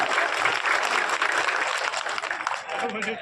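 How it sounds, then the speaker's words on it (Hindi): A crowd at a political rally in Deoghar applauds for the local MP Nishikant, with dense, continuous clapping and cheering throughout and a voice over a loudspeaker mixed in. "तो जोरदार ताली बजाओ हमारे अपने सांसद निशिकांत जी के लिए।"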